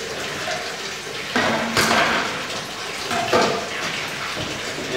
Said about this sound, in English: I like to just put it in and let some water run on it, so it fills up with water.